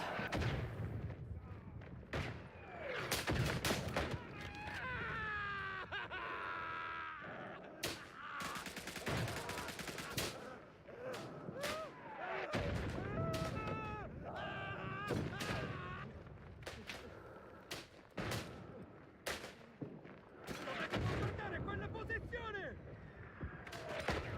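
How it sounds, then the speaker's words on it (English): Artillery fire in the World War I game Isonzo, a series of loud booms and cracking blasts mixed with rifle shots, irregular and closely spaced, with someone talking between the explosions. "Got saved by the artillery."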